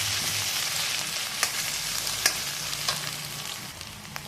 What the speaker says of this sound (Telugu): ఎగ్ బాగా ఫ్రై అయితేనే.